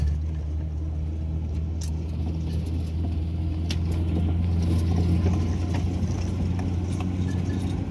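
Vehicle driving home on punctured, under-inflated tyres, heard from inside as a loud steady engine and road rumble with light rattling and occasional clinks, no talk.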